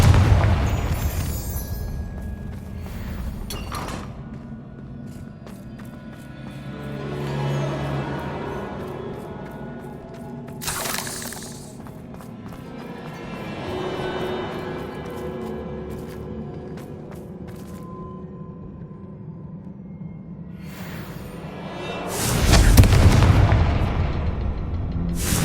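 Repeated Confringo fire-blast spell explosions in Hogwarts Legacy, loud booming bursts with rumbling tails, one sharp crack near the middle and a heavy blast near the end, over a low droning game ambience.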